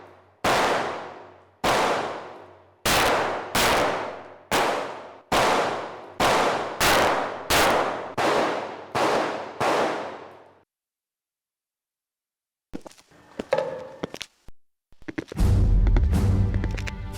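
Gunfire at a shooting target: about a dozen loud, sharp shots in an uneven sequence over ten seconds, each ringing out briefly, then silence and some scattered clatter and noise afterward.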